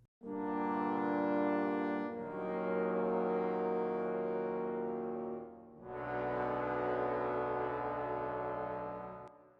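Sustained MIDI-orchestrated brass chords of horns, tenors and basses in close voicing, long swelling held notes that shift harmony twice, full and loud with no talk.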